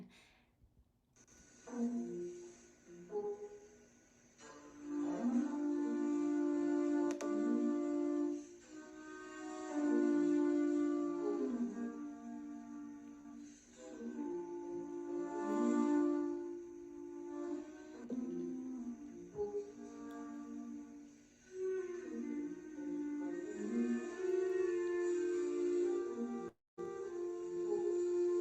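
Looped wind instrument piece layering sustained melodic lines and harmony over self-made funky beats, played continuously at steady loudness with a brief dropout near the end.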